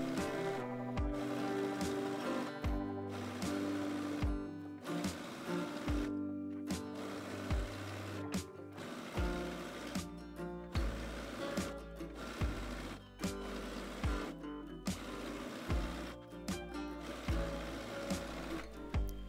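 A sewing machine runs the final seam around a gathered midi skirt in repeated bursts, each a rapid mechanical whir that stops and restarts, with short pauses between runs and nothing spoken.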